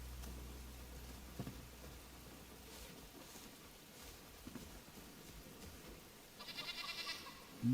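Goats bleat in the survival video game Enshrouded, faint and somewhat distant over a quiet ambient bed with light rain-like texture, a brief brighter call rising near the end.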